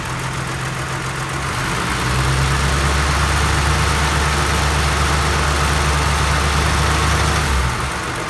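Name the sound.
vintage Mopar car engine idling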